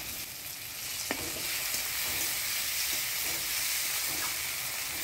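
Ground spice paste of coriander, cumin, ginger and radhuni fries in a pan over onion and tomato in Bengali village cooking, a steady hissing sizzle with a few soft stirring clicks.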